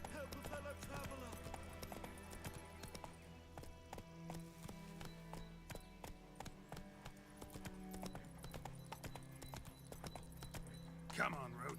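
Roach, the horse in The Witcher 3: Wild Hunt, galloping with rhythmic clip-clopping hooves at moderate volume, set against game music and ambient sound, with a brief louder burst at the end.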